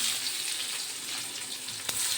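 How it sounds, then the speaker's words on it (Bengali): Chopped onion sizzles in hot oil over cumin seeds, a steady close frying hiss that runs the whole time, with a single faint clink near the end and no voices. "পেঁয়াজটা একটু লাল লাল করে ভেজে নেব।"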